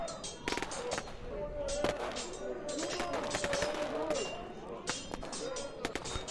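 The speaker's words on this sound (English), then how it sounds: "I like the gunfire with the light showing it's being fired, but frozen." Gunfire in the video game Caligo: rapid sharp shots crackle in quick bursts over a steady droning background, sometimes spaced out, sometimes clustered.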